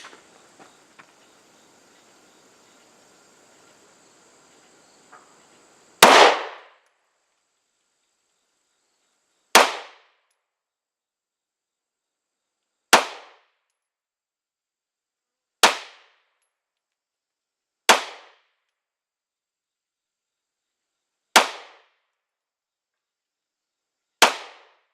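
A Glock 19 Gen 5 pistol with fiber optic sights fired at a 7-yard range, seven sharp, loud shots spaced a few seconds apart after a quiet stretch of faint background noise.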